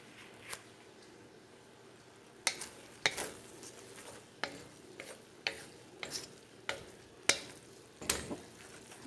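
A utensil scrapes and clacks against a frying pan while noodles are stirred, giving sharp, irregular taps over a faint background sizzle, close and fairly quiet.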